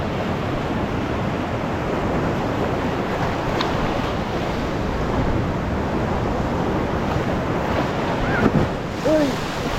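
Ocean surf at Tumok Beach in Agno, Pangasinan, washing steadily over large rocks, a continuous loud wash with wind buffeting the microphone and a brief exclamation from a person near the end.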